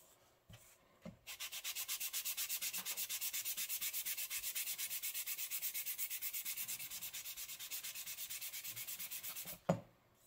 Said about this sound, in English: And by sanding against the grain,